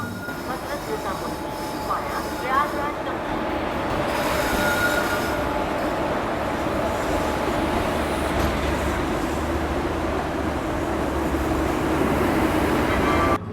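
A Patna–Delhi AC special train hauled by a WG7 locomotive runs along the track, giving a steady loud rumble and rattling of wheels and cars with some squealing, heard from onboard with voices faintly underneath.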